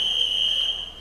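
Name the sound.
swimming race start buzzer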